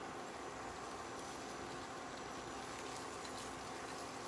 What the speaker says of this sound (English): And those are going to start sizzling.